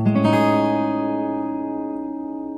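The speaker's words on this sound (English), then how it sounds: "the chord that's most closely associated with this scale is a major 7 sharp 11 chord. It's a really bright sound" A single bright major seventh sharp eleven chord strummed once on guitar, ringing out clearly and decaying slowly over a couple of seconds with no talking.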